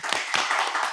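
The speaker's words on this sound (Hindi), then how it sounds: "मनीष भाई के लिए जोरदार तालियां भाई" A crowd claps enthusiastically, a dense burst of many hands applauding together, loud and continuous.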